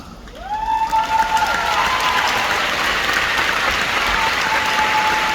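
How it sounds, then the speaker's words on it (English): Sustained applause from a large convention audience at a charity cause segment, a dense steady roar of clapping that swells in and holds loud throughout, with a faint tone and a brief voice heard through it. "Let's give them a big round of applause."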